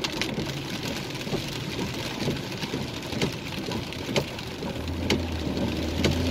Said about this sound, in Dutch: En het is heel hard aan het regenen.